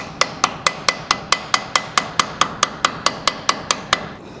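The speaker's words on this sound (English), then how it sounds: "to tap around the perimeter until you have two pieces" A hammer taps steadily around the perimeter of a gasket to cut the material, roughly four sharp, evenly spaced strikes per second, close and crisp, with no talking.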